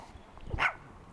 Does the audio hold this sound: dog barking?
yes